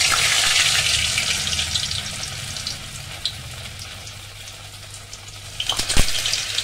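Litti frying in hot, smoking oil gives off a steady, bright sizzle. It fades slightly, then flares up again with a burst of bubbling near the end.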